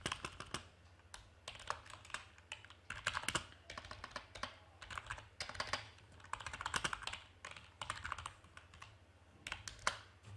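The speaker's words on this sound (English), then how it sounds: "So here in this file I'm going to type some code snippets." Computer keyboard keys clatter in quick irregular bursts as code is typed, with brief pauses between runs of keystrokes, close and moderately quiet with no voices.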